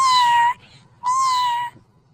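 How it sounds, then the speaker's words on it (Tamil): A stray cat wearing a belt meows loudly at close range, two long drawn-out cries separated by a short pause. "இந்த பூனை நம்மளை பார்த்து நல்லா கத்துது"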